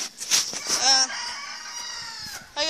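A chicken crows loudly and close by in a long drawn-out call, with clucking and brief background voices around it.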